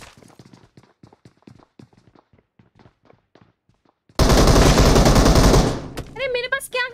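Automatic weapon fire in the PUBG Lite battle royale game: a loud continuous burst of rapid shots lasting about a second and a half, preceded by faint footstep-like ticks and followed by a short voice.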